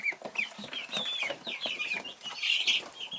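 Baby ducks of five mixed breeds cheep in quick overlapping bursts, close and fairly quiet, with a few faint rustles among the peeps and no voices.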